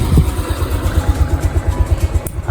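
A motorcycle engine runs steadily with a pulsing low throb, close and fairly loud, on a moto-camping trip in Atok, Benguet.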